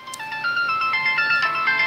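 A phone ringtone plays a bright, repeating melodic pattern of electronic tones, steady and fairly loud, with no talking over it.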